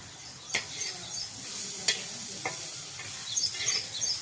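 Vegetables frying in a pan just after chili powder is added, a steady soft sizzle with a few sharp stirring clicks and scrapes, close and fairly quiet.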